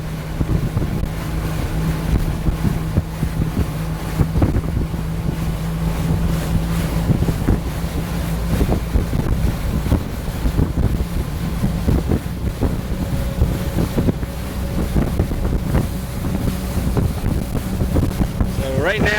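A pontoon boat cruises at about 18 knots with its outboard held near 3,800 to 4,200 RPM. A steady engine drone blends with constant wind buffeting and rushing water, and a voice is heard briefly.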